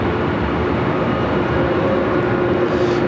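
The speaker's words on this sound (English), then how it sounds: "Have another Breeze aircraft heading up for a north side takeoff" A jet airliner rumbles steadily at LAX, a continuous broadband roar with a faint hum running through it, moderately loud and unbroken, with no voices.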